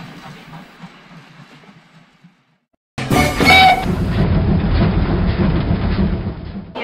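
A steam locomotive promoting the Berlin–Stettin line runs past loudly, with rumbling wheels, rail clatter and a burst of hiss after a quiet stretch of faint background noise.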